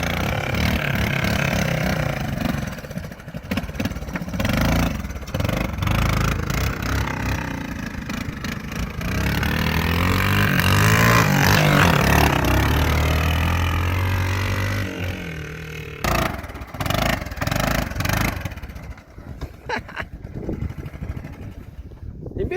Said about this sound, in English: we got a Honda 4x4 quad, a sport quad, and a trike.